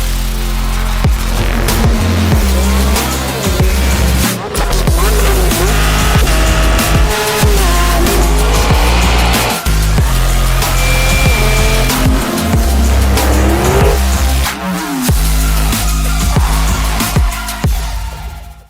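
A Ferrari SF90 with a twin-turbo V8 and three electric motors launches hard on Toyo R888R tires, giving loud engine roar, tire squeal and repeated surges of acceleration close by.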